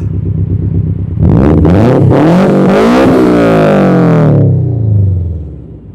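Subaru Impreza with a 600+ hp engine revs hard through its exhaust, idling, then a rapid series of loud blips rising into a sustained high rev before dropping back, close and alone.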